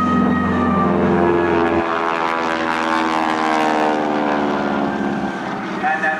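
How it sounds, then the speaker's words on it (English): A loud, steady North American T-6 Texan propeller aircraft growl, its Hamilton Standard propeller tips going supersonic, with a harsh, buzzing roar, close by and continuous, its pitch shifting slightly as the plane passes. "Wonderful growling sound you hear is the sound of those big Hamilton standard propeller tips going supersonic"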